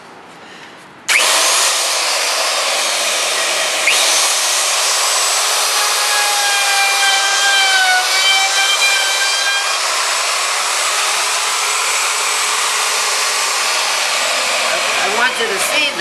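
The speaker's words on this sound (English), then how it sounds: "normally I'm holding the router with both hands, but this is a small piece, so I'm using one hand to hold a piece in place" A handheld router cuts a small wooden heart, starting abruptly after a quiet second and then holding a loud, steady high-pitched whine with slight pitch wavers as it bites the wood, continuing close and uninterrupted.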